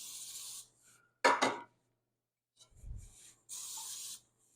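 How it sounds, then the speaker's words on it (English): Cake layers have their tops sprayed in short hissing bursts from a spray can, a few separate sprays with quiet pauses and a light handling rub in between. "now we're going to spray them again because we need to have the tops of those ones sprayed"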